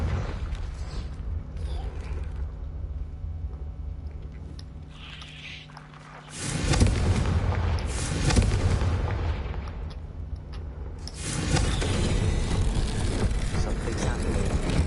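Confringo blasting spell explosions in the Hogwarts Legacy video game, loud booming bursts at around six and eleven seconds over a continuous rumbling game soundtrack.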